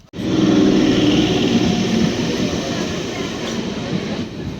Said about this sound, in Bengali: ট্রেন আসুক তারপরে দেখা হচ্ছে ট্রেনে উঠি